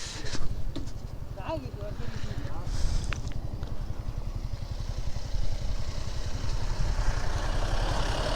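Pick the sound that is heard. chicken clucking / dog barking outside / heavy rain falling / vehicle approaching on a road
vehicle approaching on a road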